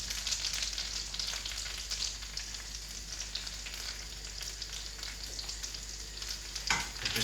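Sage leaves sizzle in butter in a pan next to fresh pasta for spinach, ricotta and lemon tortellini, making a dense, steady crackling fry with a faint low hum and occasional soft stirring knocks, and no speech.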